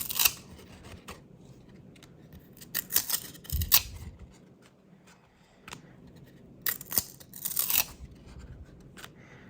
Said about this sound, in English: It's almost easier to pull them apart this way in this pack.